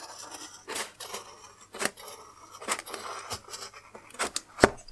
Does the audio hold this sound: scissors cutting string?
yes